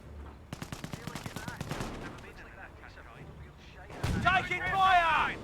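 Gunfire rattles in a Company of Heroes 1 battle, a rapid string of sharp shots in the first two seconds, then denser firing and booming rumble building toward the end, with voice lines over parts of it.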